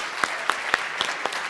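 A few separate claps, sparse and irregular, around six sharp hand claps spread over a second and a half rather than full applause.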